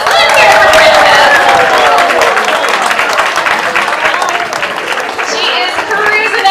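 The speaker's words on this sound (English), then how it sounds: "she definitely deserves a big round of applause" Crowd applause fills an outdoor dolphin show, steady and loud throughout, with cheering voices and talk mixed into the dense clapping.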